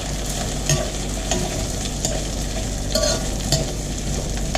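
Vegetables, cauliflower among them, grill in a hot pan with a loud, continuous sizzle, while occasional light spatula taps and scrapes cut through close by.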